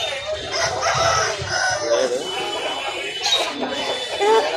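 A rooster crows at a busy Sunday country-chicken market in Nellore, its call rising over constant chatter of nearby buyers and sellers, with clucks and crowd noise around it.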